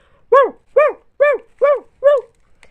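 A farm dog barking five times in an even rhythm, loud and close, each bark a clear tonal woof separated by short silences.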